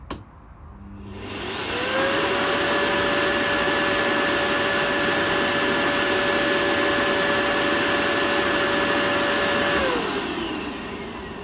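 Miele S6220 Cat & Dog vacuum cleaner switching on, its motor whining up to a loud, steady roar with a sustained tone, running alone for several seconds before spinning down at the end.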